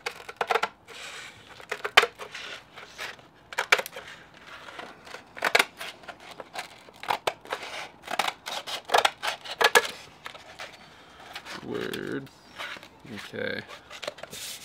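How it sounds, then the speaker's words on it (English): Repeated crisp snips of scissors cutting through skateboard grip tape, in irregular bursts, close up, with a brief low scrape near the end. "So I'll just cut it with some scissors."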